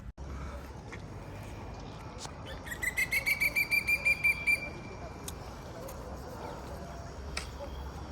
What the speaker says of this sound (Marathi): सोबत कोकिळेचा मधुर आवाज